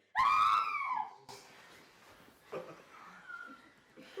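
A loud, high-pitched scream bursts out during a script table read and trails off after about a second, followed by quieter murmuring and chuckles.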